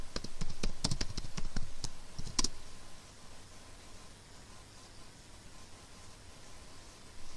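Quick keystrokes on a computer keyboard at a website text prompt: a short burst of sharp, close clicks lasting about two seconds, then only a steady background hiss.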